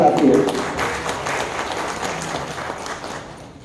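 An audience of pensioners in an auditorium claps in welcome at a Pensioners' Day event, a fairly loud burst of applause at the start that gradually thins and fades over a few seconds.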